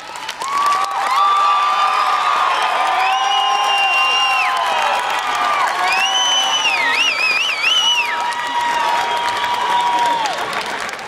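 Applause and cheering fill the hall at an auto diesel college graduation, steady crowd clapping under loud whoops, shouts and whistled calls from many voices throughout.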